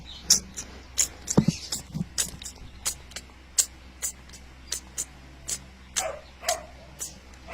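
A small dog gives a rapid series of sharp yips and barks, repeating in irregular bursts throughout, fairly close.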